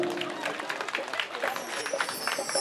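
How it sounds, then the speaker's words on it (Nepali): A crowd claps to honour a guest at a community ceremony in Nepal, a patter of applause mixed with murmuring chatter and voices from the gathering. "जोडदार तालीले सम्मान गरिदिनु"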